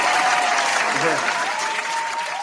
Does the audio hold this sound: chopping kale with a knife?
no